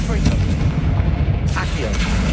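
A Confringo fire spell explodes in the Hogwarts Legacy video game, a loud, sustained booming rumble with a brief dip partway through.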